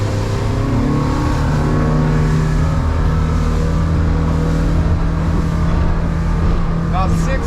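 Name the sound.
boat running on one Yamaha F200 outboard motor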